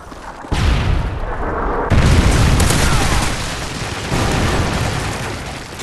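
A Predator missile strike in Call of Duty: Modern Warfare 3 lands as a loud, sustained explosive roar with layered booms and rumbling debris that rolls on for several seconds.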